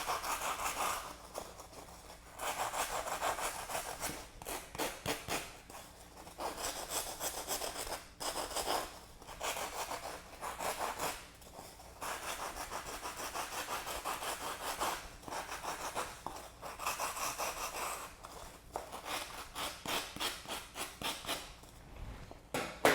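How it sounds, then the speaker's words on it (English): A file smooths a carved foam turkey form with repeated rhythmic rasping strokes, close and steady, pausing briefly between passes. "We'll do the rest with our file. We're just smoothing out all of the facets and the ridges from our cutting process."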